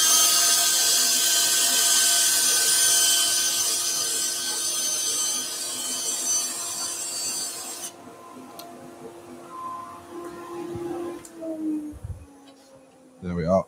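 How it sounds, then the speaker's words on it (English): A power rotary sander buzzes loudly against dyed wood while turning a German smoker, a steady whirring rasp for several seconds that cuts off and winds down, followed by faint handling noises. "give it a very quick blast with the rotary sander"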